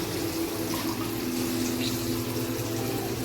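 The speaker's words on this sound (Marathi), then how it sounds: "बाकीचं जे काय जुनं भांडी होती ती आता धुण्याचं काम चालू आहे." Water runs steadily from a tap while old utensils are washed, a constant even rush with a faint hum and no talking.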